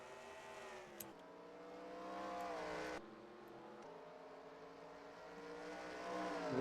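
Race car engines scream and rev in a racing video game at Watkins Glen, several cars roaring together with rising pitch and gear shifts, steady and fairly loud with no talk.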